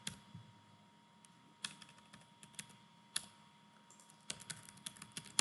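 Fingers type on a computer keyboard, close and soft, in irregular bursts of quick key clicks with short pauses between them.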